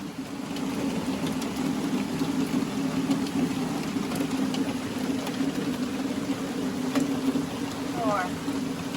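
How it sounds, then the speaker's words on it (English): Rain falls steadily on a campsite canopy in the Sylamore District of the Ozarks: a dense, continuous patter and hiss that stays close and even for the whole stretch, over a low, constant hum. "it started raining on us even more, so we went ahead and threw up the canopy"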